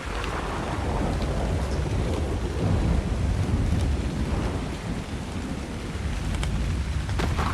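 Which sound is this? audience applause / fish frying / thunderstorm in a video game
thunderstorm in a video game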